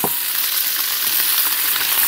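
Mussels and clams sizzle in a pan with cherry tomatoes, giving a steady, lively frying hiss up close with no talking.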